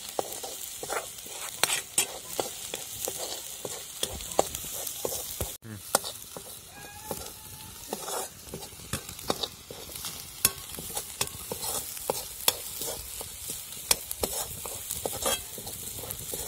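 Onions are stir-fried in oil until reddish for a spicy Maharashtrian sev bhaji, a steady close sizzle broken by frequent spatula scrapes and taps against the pan.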